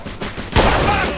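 Gunfire in the Mafia 2 video game: a sharp burst of shots breaks in about halfway through, then continues as a dense, loud volley after a quieter rumbling start.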